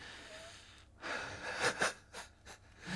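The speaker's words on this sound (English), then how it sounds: "And therefore, I am wheezing." Heavy, wheezy breathing after a run, with several loud gasping breaths and snorts close to the microphone following a quiet start.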